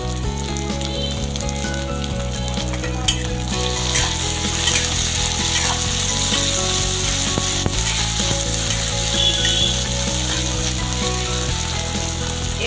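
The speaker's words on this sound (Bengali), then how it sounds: "এগুলোকে আমি একটু ভালোভাবে ভেজে নেব।" Chopped tomato and green chilli frying in a pan for Bengali begun bhorta, a steady sizzling hiss running throughout over a low humming drone, with no talking.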